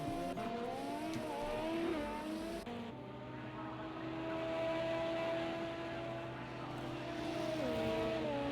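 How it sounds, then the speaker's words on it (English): LMP prototype race car engines from a racing video game at Catalunya hum in a steady, whiny drone with gear shifts and pitch sweeps as cars pass, continuous and fairly faint throughout. "the only problem with this car is that they don't sound good to me. They sound like vacuum cleaner."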